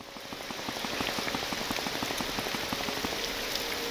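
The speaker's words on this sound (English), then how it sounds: "it's always raining in this fucking game" Rain in the video game Morrowind patters steadily, a soft, continuous hiss of drops with faint regular ticks, swelling slightly at first and then holding even, with no talking.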